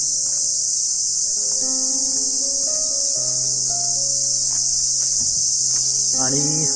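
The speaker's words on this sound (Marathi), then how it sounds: "बघा रात किडे किड्यांचा आवाज आहे जो येतो तो" Crickets chirp at night as a loud, continuous high-pitched trill that stays steady throughout, under sustained low musical tones and occasional faint voices in the background.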